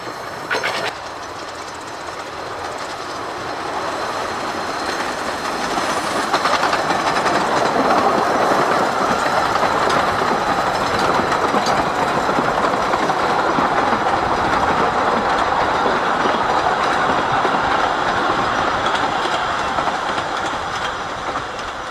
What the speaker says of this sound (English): The powerful loco makes light work of the long climb in Mill Wood.